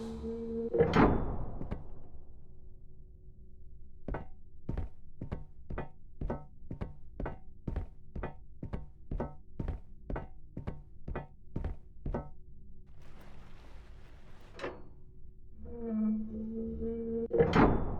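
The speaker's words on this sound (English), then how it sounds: "You must uncouple the safety latches." Heavy mechanical thunks open and close a long run of evenly spaced metallic clicks as safety latches uncouple one after another in the video game Return to Grace, with no talking.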